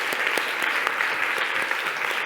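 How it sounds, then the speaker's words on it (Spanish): An audience claps at an event, a brief burst of brisk, fairly close applause with distinct individual claps sounding through the steady patter. "voy a pedir un aplauso para Nasser, por favor"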